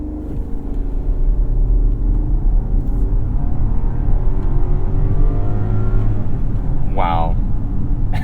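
A 2022 Rolls-Royce Cullinan SUV accelerates hard from a launch, its engine a loud, smooth rising drone heard from inside the cabin, with a brief higher chirp near the end.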